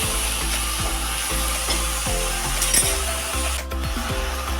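Jackfruit and prawn curry cooking in the oil left from frying prawns, a continuous sizzle under a repeated rhythmic scraping of a spatula against the pan.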